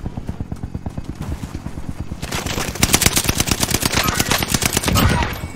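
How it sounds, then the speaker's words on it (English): Rapid bursts of gunfire in a shooting video game, a fast steady rhythm of shots that grows louder and denser partway through, close and loud with no talk over it. "I shot him"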